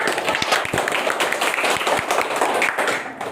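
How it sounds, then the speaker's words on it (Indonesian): Students in a school classroom clap together, a dense burst of hand claps running continuously at steady loudness before tapering off at the end. "Boleh tepuk tangan."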